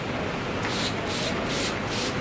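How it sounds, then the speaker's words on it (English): Makeup setting spray from Iconic London misted over the face in several short hissing bursts, close and fairly loud, with no talking. "I will then again spray the Iconic London spray"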